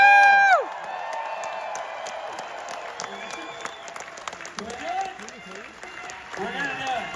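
A large cinema convention audience applauds and cheers at a film event, with a loud whoop at the start and then sustained clapping and crowd noise carrying through to the end.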